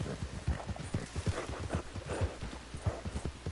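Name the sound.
horse hooves clip-clopping in Roblox Jailbreak video game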